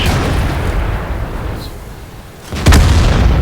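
In the World of Tanks video game, a tank cannon fires and an explosion follows: a rumbling blast fades into a quieter lull, then a sharp, loud boom rings out near the end.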